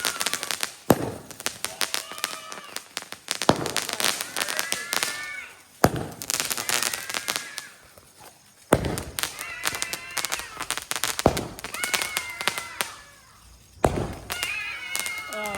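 Repeated sharp bangs and crackling bursts from a fifty-shot fireworks cake go off in clusters, with whistling shots rising between them and occasional voices in the background.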